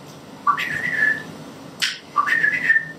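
A human whistler imitates a nightingale's song with bright, sliding warbled phrases, two clear bursts separated by a short breathy pause, close and fairly loud with no talking.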